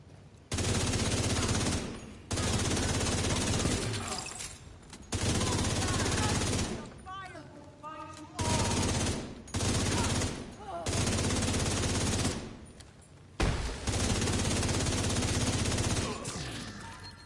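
Pistol shots in a video game, delivered as long loud stretches of rapid firing separated by short quiet gaps, close and harsh, with a voice briefly heard between bursts.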